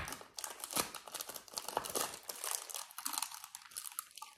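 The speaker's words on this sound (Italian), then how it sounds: "Adesso apriamo questi stickers per vedere come sono." Foil sticker packets torn open and crinkled by hand, a close run of crisp crackling and tearing bursts with no voices.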